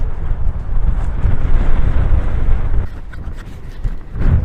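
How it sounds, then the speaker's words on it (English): Strong wind buffeting the microphone in loud rumbling gusts, steady, then dipping briefly before surging again. "It's a bit windy, so not sure if I'll have to come back."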